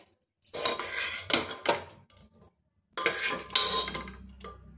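A pressure cooker being opened after cooking gooseberries, with metallic clanks of the lid and pot in two close bursts separated by a short silence.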